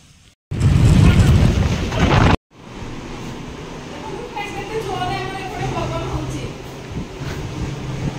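A burst of loud, rushing wind roars for a couple of seconds, then steady wind and rain noise continues while a person talks.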